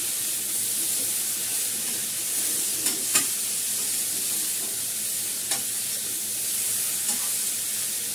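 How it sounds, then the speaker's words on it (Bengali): Spices and ginger paste sizzle and fry in a pan while being stirred, a steady frying hiss broken by a few sharp scraping stirs, close and fairly loud. "আমার হাতে করা মশলা দিয়ে এটাকে ভালো করে কষাচ্ছি"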